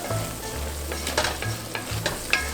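Flour being mixed into a seafood soup in a pot, heard as quick stirring scrapes and light tapping over a steady low bubbling sizzle, close up and without voices.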